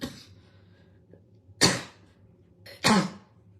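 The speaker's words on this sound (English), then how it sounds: "Just coughing." A woman gives two sharp, breathy coughs about a second apart, close and fairly loud against a quiet room, with a faint earlier throat sound.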